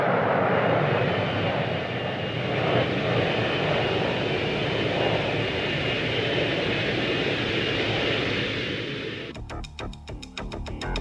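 A McDonnell Douglas F-4 Phantom II jet roars loud and steady for about nine seconds, a dense broadband rush that cuts to a sharper, stuttering tail near the end.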